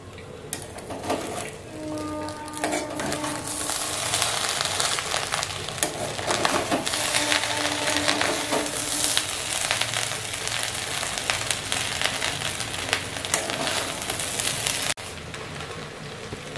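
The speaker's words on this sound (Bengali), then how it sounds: "এবার ভালো করে আমি নেড়ে নেব।" Sweet Bengali polao rice with ghee sizzles loudly in a pan while a spoon scrapes and stirs it, giving a constant frying hiss broken by scraping strokes, with no voices.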